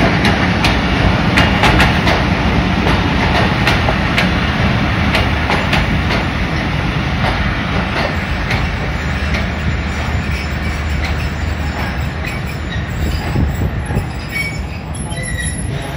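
A passenger train led by locomotive 8306 rolls into Gujrat station, loud and close, with continuous wheel squeal, rumbling wagons and clickety-clack over the rails throughout.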